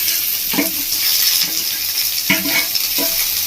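Chopped potato and onion hit a pan where eggplant has been lightly fried, sizzling loudly and close with several stirring scrapes against the pan, and no talk.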